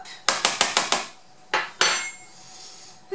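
A metal spoon clinks against a bowl while measuring bitter almond extract for vegan almond-hazelnut muffins: five quick bright taps in a row, then two more after a pause, close and clear with no talk.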